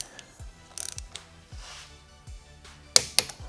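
Ratcheting clicks and metallic tool taps while frame slider bolts are tightened on a 2022+ Honda Grom, short irregular bursts of mechanical clicking close by with a couple of sharp clanks at the end, no talking.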